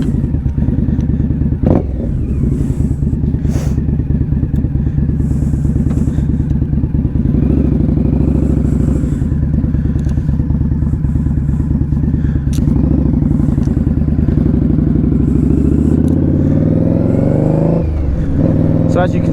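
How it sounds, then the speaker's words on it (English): An Indian Scout Bobber motorcycle rumbles loud and close as it rides along a UK country road, its engine droning steadily with rising revs and a few thumps, while a rider talks over it. "I've got earplugs in because of the noise of the bike"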